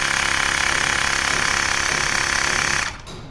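A Xiaomi portable electric air compressor runs loud and close with a steady rapid pulsing drone, then stops near the end, leaving a quieter background.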